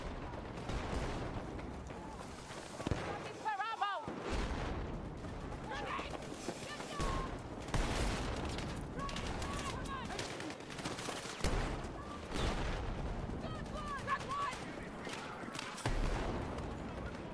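Gunfire in a multiplayer shooter video game, bursts and volleys of shots with explosion-like thumps, mixed with game effects and players talking over it throughout at moderate loudness.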